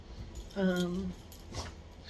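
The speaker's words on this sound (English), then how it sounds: "And the dog is having fun." A dog gives a short whimpering, whining cry with a rising tonal sound, followed by a brief fainter yelp, heard close with soft room noise behind.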